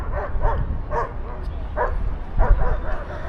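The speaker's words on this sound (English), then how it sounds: "There's a police dog going nuts over there." Quick, scattered barks from an excited police dog near a subway station in Chengdu, somewhat distant against a steady crowd hum and low rumble.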